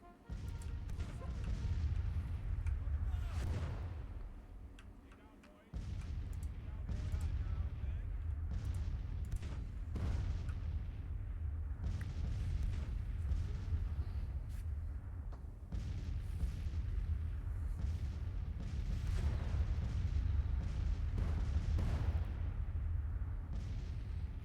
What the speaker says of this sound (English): they're trying to shoot my prone skirmishers